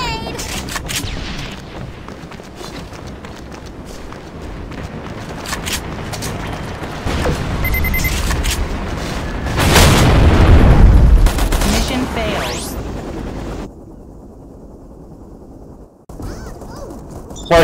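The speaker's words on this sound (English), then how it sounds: "Incoming nade!" A grenade blast and rapid gunfire in the Metro Conflict shooter game, with dense sharp shots building to a loud, booming explosion around the middle, then a sudden drop to quieter sound, with a voice talking over parts of it.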